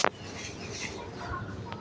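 A laying hen clucks close by, a quick burst of soft clucks at the start and another short cluck near the end over a faint background hum.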